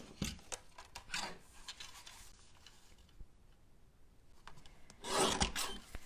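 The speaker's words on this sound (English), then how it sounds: "let's cut a 4 by 4 inch piece from this." A sheet of patterned cardstock is cut to a 4 by 4 inch piece for card making, with close scraping cuts in a few short bursts and a louder rasping stroke near the end.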